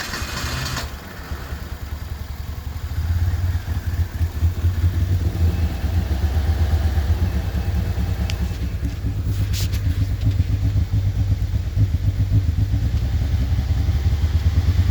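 A 1986 Ford Mustang SVO engine runs after a cold start: a loud, close, steady rumble with a low throb that builds slightly a few seconds in, rough and uneven as the engine struggles to idle.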